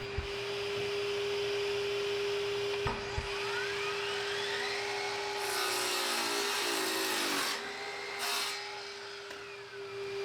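Miter saw cutting 2x4 lumber into table legs: a steady motor whine runs throughout, with a louder, brighter cutting burst in the middle and a short second burst after, close and alone.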